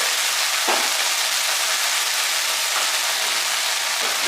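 Water spinach fries in a pan as salt and turmeric are stirred in. A loud, steady sizzling hiss runs throughout, broken by a few brief stirring scrapes, with no voices.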